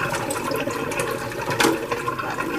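Used detergent water from dental instrument decontamination is poured down a drain with a steady, close rushing and gurgling, a brief louder splash near the middle.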